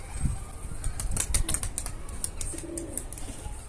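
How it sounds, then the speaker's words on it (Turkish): Rapid bursts of pigeon wings flapping close by, a flurry of fluttering beats over a steady background hum. "Ancak kanat çırpıyorsunuz"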